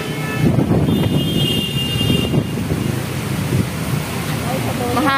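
Strong wind buffets the microphone in a steady, rumbling roar along the Manila Baywalk on a hot afternoon, with a voice briefly heard beneath it.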